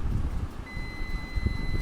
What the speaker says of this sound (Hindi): देखिए इसमें भी बीप साउंड आ रहा है और रेजिस्टेंस भी बहुत कम दिखा रहा है।